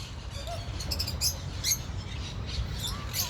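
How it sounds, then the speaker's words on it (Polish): Parrots in an aviary in a palace park in Greece, giving scattered shrill squawks and chirps at moderate distance over a rumbling outdoor background. "O, tutaj mam papuszki."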